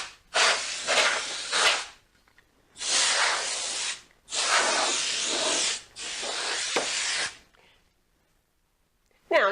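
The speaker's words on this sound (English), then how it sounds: "spray the whole back of the device" Cleaner sprayed across the back and connectors of an electronic device, four long hissing spray bursts of about one to two seconds each, close and fairly loud, separated by short pauses.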